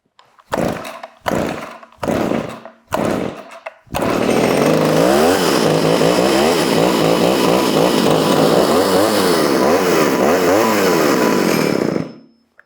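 A few sharp pull-start attempts, then an old Pioneer P26 chainsaw with a loose exhaust roars to life and runs loud and close, revving up and down for several seconds.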